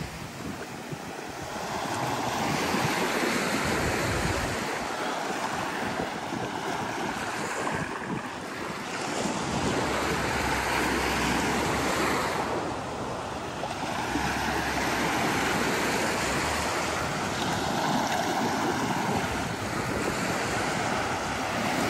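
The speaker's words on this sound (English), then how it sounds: "I'll take you for a little morning stroll on the beach." Ocean waves washing onto the beach in North Naples, Florida on a morning stroll, a continuous loud surf wash with swelling breakers and some wind buffeting the microphone, with no talking.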